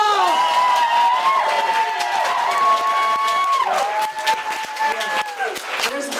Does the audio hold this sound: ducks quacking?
no